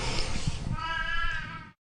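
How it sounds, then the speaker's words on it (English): A cat gives a single drawn-out, nasal meow, close and fairly loud, over faint background voices before cutting off abruptly. "That's a cat."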